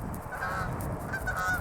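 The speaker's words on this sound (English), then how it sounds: "Canadian geese that flew about 20 feet from my head right there" Canada geese flying low overhead over fallow farmland, their honks sounding close in a few nasal calls against a steady outdoor background.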